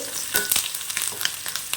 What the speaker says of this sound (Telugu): తర్వాత కరివేపాకు వేస్తున్నానండి. 1/2 స్పూన్ పసుపు వేస్తున్నానండి. తర్వాత కలుపుకోవాలండి.